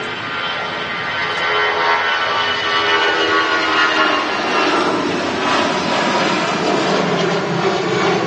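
A Eurowings jet airliner comes in to land at Manchester Airport, its engines a loud, steady roar that swells slightly as the aircraft nears touchdown, with no talking.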